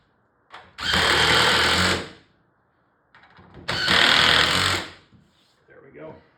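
A power drill drives a bigger screw into wood while an arcade cabinet is being restored, in two loud bursts of whirring lasting about a second each with a pause between them, and some faint handling noise afterward.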